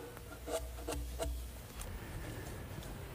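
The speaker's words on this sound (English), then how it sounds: "I'm using the rasp to get into the area that the router can't reach" A wood rasp scrapes into a corner of a wooden kindling box beyond a router's reach, with several short rough strokes early on, then softer intermittent rubbing, close and fairly quiet.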